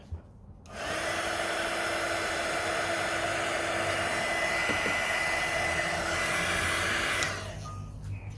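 Heat gun shrinking heat-shrink tubing on wiring of a 1969 Corvette fuse panel: a steady, loud whooshing hot-air roar with a faint motor whine, running continuously for about six seconds before switching off.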